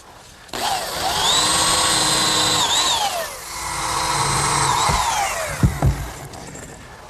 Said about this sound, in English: Now pre-drill for some screws.